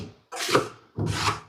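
Two broad scraping strokes of a drywall trowel spreading joint compound into a corner, each a close, rough rasp lasting about half a second.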